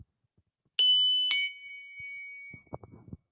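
Watto's shop bell from Star Wars rings twice in quick succession, two bright, clear dings with a lingering metallic tone, followed by a few faint soft knocks.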